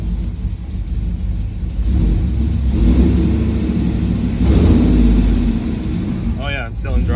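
Turbocharged 6.0 Silverado AWD truck engine running right after its first fire-up, a steady close rumble that swells a little midway, with a voice speaking briefly near the end.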